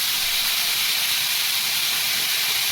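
Prawns frying in a pan with turmeric and salt, a steady loud bright sizzle and hiss held throughout without a break, close to the pan, no one speaking over it.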